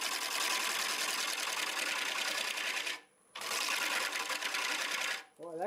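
Wood lathe spinning at 625 RPM while a tool cuts a workpiece, giving a steady, loud broadband shaving roar that breaks off briefly partway through and then resumes, with a short voice at the very end.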